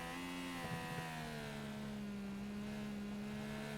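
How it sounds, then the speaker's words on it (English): An IndyCar engine in a racing game at Mid-Ohio drops down to first gear, its steady droning whine sliding lower in pitch with a brief burst of shift blips, heard alone without talking. "Goes all the way down to first gear, and you can hear the engine winding down as he does so."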